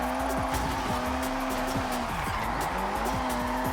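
A '95 Eclipse drifting with the e-brake in Forza Horizon 6, its tires squealing and skidding continuously over a loud, steady engine drone.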